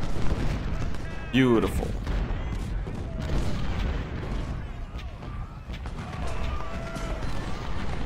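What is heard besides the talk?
infantry volley fire in video game Ultimate General: Civil War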